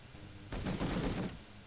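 A quick burst of rapid automatic gunfire from the video game Momentum, about a second long, crackling and fairly distant over a quiet background.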